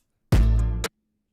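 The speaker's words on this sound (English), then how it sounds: "Kick by itself. Nice little impact." A single kick drum sample plays alone, a deep, punchy low thump that holds for about half a second and then cuts off cleanly, close and loud against silence.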